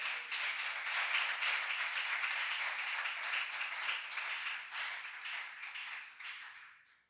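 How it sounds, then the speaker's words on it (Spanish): A church congregation at a Spanish-language service gives loud, sustained applause, a dense wash of clapping hands that holds steady for several seconds before fading out at the end. "dale fuertes aplausos al Señor"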